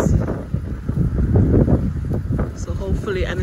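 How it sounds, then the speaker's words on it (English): Strong wind buffets the microphone in rough, gusting bursts in a South Florida garden, with faint talking underneath. "it's very windy today, as you can see, it's very windy."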